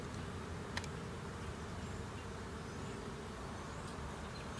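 A honey bee swarm hums steadily nearby as it is moved from a trap into a new hive, a continuous low buzz with a few louder bees passing close and faint outdoor background.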